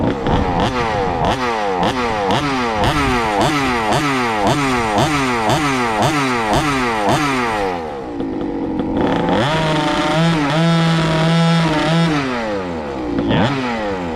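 A GoQuad go-kart with a stock engine and aftermarket exhaust pipe revs in rapid repeated sweeps, then holds a steadier high pitch as it launches, loud and close with a raspy small-engine buzz.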